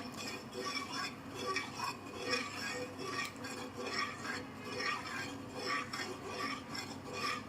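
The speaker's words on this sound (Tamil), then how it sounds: "இப்போ இதை சிம்மில் வச்சு கிண்ட ஆரம்பிச்சிடலாம்" A ladle stirs thick ragi millet porridge (koozh) in a pot on a low flame, with a steady, soft scraping and faint clinks continuing throughout at close range.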